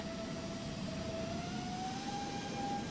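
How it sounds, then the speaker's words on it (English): Steady, loud jet engine roar from a Fenix V2 airliner in a flight simulator as the thrust reversers deploy, a sustained broadband rush with a rising whine, heard alone. "Reversers open up when I deploy mine."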